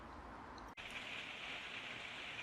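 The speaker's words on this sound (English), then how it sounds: "it's a rainy day outside and it's a bit noisy in here because we can hear the rain on the roof" Faint steady patter of rain on a roof heard from indoors, a soft continuous hiss with one brief dropout near the start.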